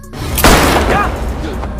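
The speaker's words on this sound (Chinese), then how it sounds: "这时巫医醒了过来，毫不犹豫一枪就崩了。" A gunshot rings out in a horror film, a single loud booming blast with a sharp attack that trails into a noisy decay, set against tense movie sound.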